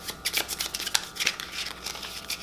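A deck of Roll Player market cards is shuffled close up: quick, crisp riffling and flicking bursts in a rapid, uneven rhythm.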